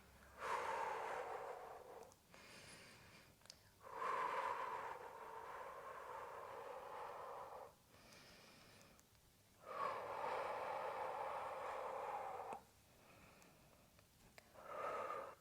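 Slow, deep breathing during a sun salutation yoga sequence, long drawn-out inhales and exhales in steady cycles of a few seconds each, close and fairly soft, with no talk.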